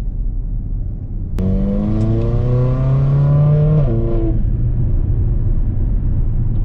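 Mercedes GLA45 AMG with a TCU tune revving hard and accelerating, loud rising engine tone climbing through quick smooth gear shifts, then settling back into a steady road rumble.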